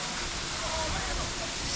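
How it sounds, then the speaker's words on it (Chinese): A cliffside waterfall pours near a cave dwelling as a loud, dense, continuous rushing roar that fills the whole stretch without pause. "这个瀑布，哇，这里面空气好好啊"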